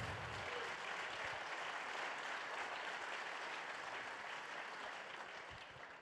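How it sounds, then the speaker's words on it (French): Audience applause fills a hall at a security directors' gala evening, a continuous, even roar of many hands clapping that tapers slightly at the end. "On peut les applaudir"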